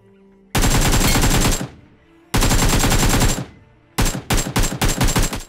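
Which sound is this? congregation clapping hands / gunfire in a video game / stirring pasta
gunfire in a video game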